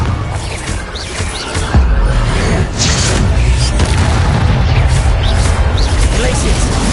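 A Confringo fire-blast spell explodes in the Hogwarts Legacy video game, heavy booming bursts landing amid continuous loud combat noise, with a voice speaking over the fight.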